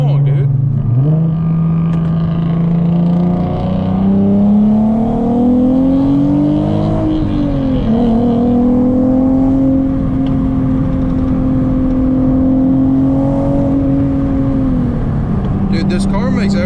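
A car engine drones loudly from inside the cabin while driving, its pitch climbing steadily, dipping with gear changes and automatic rev-matching, then rising again, as people talk over it.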